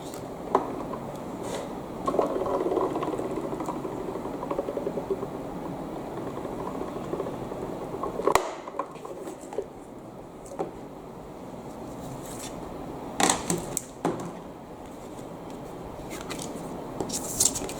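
A Dream Cut die-cutting machine fitted with a C plate and shim runs with a steady mechanical hum for several seconds, then quiets into scattered clicks and handling knocks.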